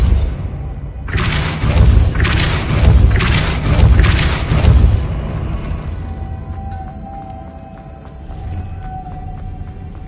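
Heavy booming blasts and thuds erupt in a quick series from a Depulso force spell cast in Hogwarts Legacy, loud and rumbling before fading into a quieter game ambience with a faint tone.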